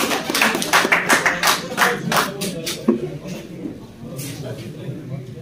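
Audience applause at an award ceremony for a pigeon sports car cup in Kashmir, with a burst of loud, close hand claps that fades out after a few seconds while a voice carries on.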